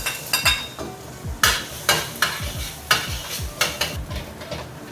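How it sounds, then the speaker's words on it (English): Minced garlic frying in hot oil in a wok, with a scraping, stirring rhythm of spatula strokes over a steady sizzle, loud and close with no talking. "And when the oil is hot, add the garlic."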